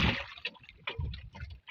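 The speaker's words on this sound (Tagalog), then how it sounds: "Lakas ng agos." Strong river current rushing and splashing close by, a steady churning flow with brief surges that lasts under two seconds.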